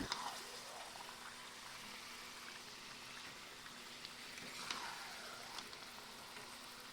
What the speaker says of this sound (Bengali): তাই জন্য আমি ভালো করে মাংসটাকে কষছি